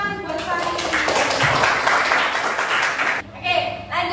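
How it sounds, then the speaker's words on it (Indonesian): Classroom of children applauding a student, a dense burst of clapping lasting about three seconds and then stopping, with a voice talking afterward. "Benar Fari, tepuk tangan buat Fari."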